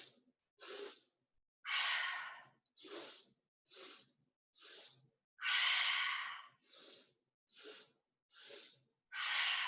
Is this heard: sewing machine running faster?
no